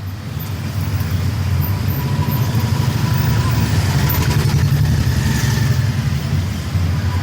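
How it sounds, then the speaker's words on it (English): A car moves along a very narrow street with no footpath, shared with pedestrians and cows, in crazy traffic. Steady, close engine and road rumble runs through the whole stretch without a break. "Now I'm driving on very narrow road"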